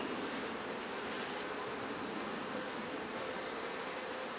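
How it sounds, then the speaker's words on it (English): A dense, steady drone of many bees buzzing close by, continuous and unbroken, with no voices. "a couple of bees have climbed on me"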